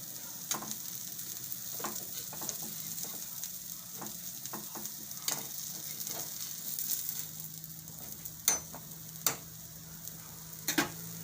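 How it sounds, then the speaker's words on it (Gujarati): Bottle gourd (dudhi) pieces cook in a pan over a low gas flame, giving a steady soft sizzle and faint bubbling throughout, with occasional sharp ticks and clinks. "તો ધીમા ગેસે આપણે આને સડવા દેવું ઘડીક વાર"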